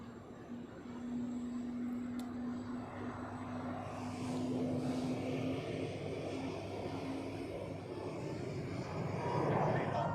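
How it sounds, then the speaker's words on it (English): A Swiss Airbus A330 bound for Dubai takes off from runway 28 at Zurich airport, a distant rising jet roar that builds steadily and swells louder toward the end, with faint talk beneath it. "Swiss 242, which is an A330 to Dubai, now cleared for takeoff on runway 28"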